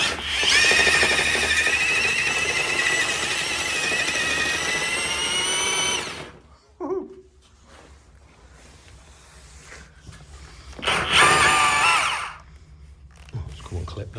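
A loud SDS hammer drill with a large bit grinds continuously into a wall for about six seconds, stops, then roars again in a shorter burst after a quieter stretch.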